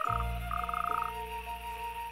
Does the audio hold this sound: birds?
no